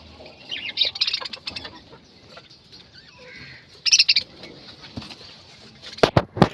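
Pet birds in a home cage give bursts of shrill chirps and squawks, close and fairly loud, separated by quieter stretches with light rustling.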